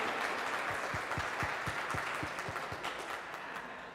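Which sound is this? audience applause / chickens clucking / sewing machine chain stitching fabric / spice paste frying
audience applause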